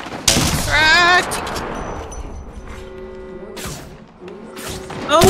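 Gunshots in the battle royale video game Apex Legends, a loud burst at the start and more shots later, mixed with game effects and excited voices talking over the action.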